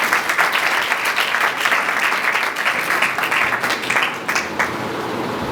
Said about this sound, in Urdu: ہمارے زندہ خداوند کے لیے زوردار تالیاں بجائیں۔